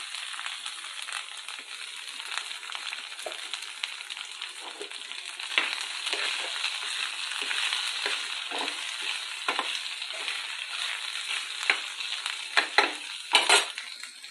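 Cut okra sizzles steadily as it stir-fries in a pan for curry, with soft scraping stirs and occasional utensil clinks over a continuous fry, no talking.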